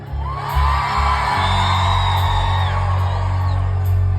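Live concert crowd at a small dive bar show in Dahlonega screams and whoops loudly and steadily over a thumping band as a guitar riff plays, with a few sharp yells rising above the roar.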